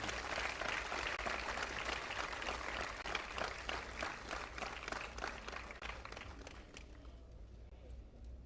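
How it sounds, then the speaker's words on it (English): Faint, distant clapping from a conference audience at an AI event welcoming a speaker to the stage, rhythmic and fairly steady before tapering off toward the end. "huge round of applause to Shikha Goyal Garu"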